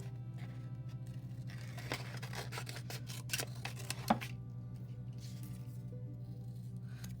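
Scissors cut paper lid shapes for a craft, making a run of soft crisp snips and crinkles close by during the first few seconds, then fading to quiet rustling under a low steady hum.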